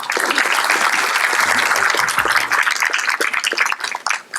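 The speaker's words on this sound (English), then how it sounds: "So give yourselves a huge round of applause." A conference audience at an apprenticeship branding event breaks into loud, dense applause that carries on for several seconds before thinning into scattered claps and fading.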